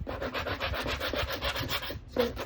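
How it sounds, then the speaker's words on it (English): A sanding sponge rubs lightly by hand across a craft piece for a cow tobacco basket, with quick, even back-and-forth strokes close up and no talking. "I'm just going to give this a little light sanding"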